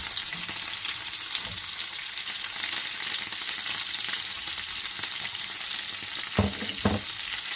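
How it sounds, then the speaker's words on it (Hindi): Finely chopped green chilli fries in a pan on low heat with a steady close sizzle, broken by a few sharp scraping stirs near the end. "अब ये मैंने 1 हरी मिर्च बारीक बारीक काटी है, वो भी डाल रही हूँ इसमें।"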